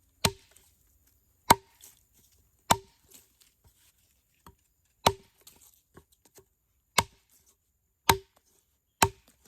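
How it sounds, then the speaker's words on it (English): Heavy blows from a Work Tuff Gear Mt. Lion knife chopping into wood, about eight sharp, evenly spaced thuds with quiet pauses between them, close and clear with no talking. "Do a little bit of chopping here."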